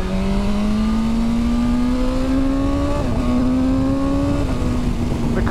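A BMW M1000R motorcycle engine holds a steady, loud high drone while riding, its pitch climbing slowly with brief dips at quick-shifted gear changes, accompanied by wind noise.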